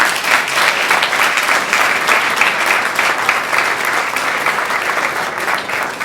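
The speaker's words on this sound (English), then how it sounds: "Let's have one more round of applause for our Westchester County Executive" A gala audience fills the room with loud, dense applause, many hands clapping at once in a continuous close roar with no voices standing out.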